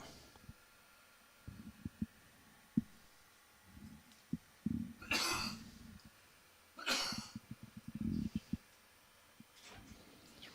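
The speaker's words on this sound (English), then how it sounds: "That was a cough, a smoker's cough." Several harsh, raspy smoker's coughs burst out in a quiet room during a lawn bowls championship final, scattered among soft thumps and shuffling, fairly close.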